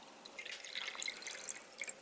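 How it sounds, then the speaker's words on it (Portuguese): Water is poured into a container holding small water-absorbing balls, giving faint, quick trickling and droplet splashes that patter unevenly for about two seconds. "Pode colocar bastante água"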